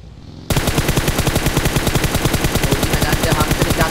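Rapid automatic gunfire in the video game Overwatch during a team scrim, a loud sustained stream of evenly spaced shots starting abruptly after a brief quiet moment.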